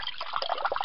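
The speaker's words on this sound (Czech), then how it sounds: "No, že tam trošku tý vodičky teče, že jo." A small trickle of water flows steadily outdoors, a soft continuous babbling close by with no voices.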